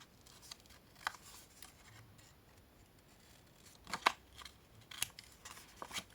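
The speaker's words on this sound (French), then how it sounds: "On coupe en biseau et on coupe le petit carré." Scissors snip fabric at a bevel for a sewn pouch, a handful of quiet, crisp cuts spaced irregularly, with a faint rustle of cloth between them in a still room.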